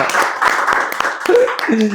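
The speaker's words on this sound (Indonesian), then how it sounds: "Tepuk tangan." Applause during a talk-show interview with a parliamentary candidate, a few distinct claps over continuing voices, with short tonal sounds toward the end.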